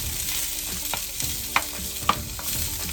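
Bell peppers and onions stir-frying in a pan, a constant close sizzle with intermittent scraping and sharp clinks of a spatula against the pan.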